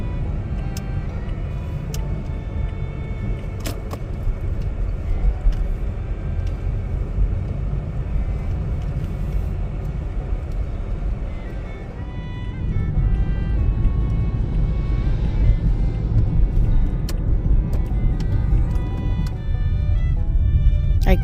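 Interior road noise from a car on a short drive, a steady low rumble and hum throughout that grows slightly louder partway through, with faint scattered clicks on top.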